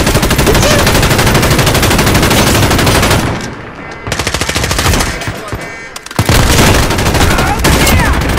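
Rapid video game gunfire, machine-gun bursts and single shots, loud and dense through most of the stretch, thinning briefly in the middle before the full barrage returns.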